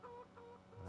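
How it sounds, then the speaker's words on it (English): Chickens clucking in a farming video game, a few soft, low clucks in quick succession, faint and brief. "I hear chickens."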